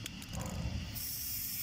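A Fluxo aerosol can sprays magnetic particle inspection fluid onto a metal part, a brief close hiss that turns steady and bright, with no talking.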